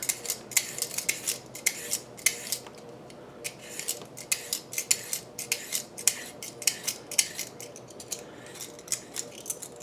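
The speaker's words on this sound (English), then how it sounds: "you want to take your seedless cucumber and you want to go ahead and just peel" A knife or peeler scrapes the skin off a seedless cucumber in quick, repeated strokes, each a short crisp rasp, close and fairly loud over a quiet background.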